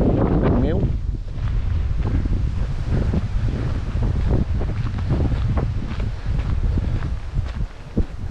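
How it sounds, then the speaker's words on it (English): Strong wind gusts buffet the microphone on the Pentland Hills during a run, roaring and rumbling close with rustling and footsteps, while a voice speaks over it. "It is certainly windy."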